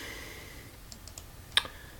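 A few light clicks of a computer mouse sound close by, ending in one sharper click, with quiet room noise between them.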